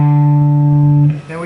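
Guitar lick, a sustained hammered-on double stop on the fifth and fourth strings ringing clearly and close for about a second before fading into a brief slide.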